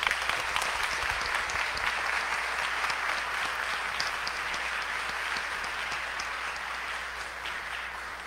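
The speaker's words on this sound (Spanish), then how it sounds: "Un aplauso a Cristo." Applause from a church congregation during Mass, a steady, even wash of many hands clapping, moderately loud and continuous, tapering gradually.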